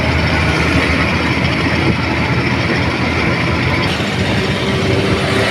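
A train rumbles past at Manmad railway terminal, a steady, loud broadband roar of rolling wagons that holds constant throughout without talk.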